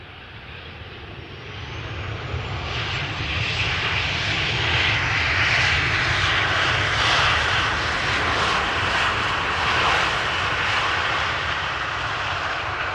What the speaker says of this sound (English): KLM style landing. Keep up the speed, vacate late, sooner to the gate.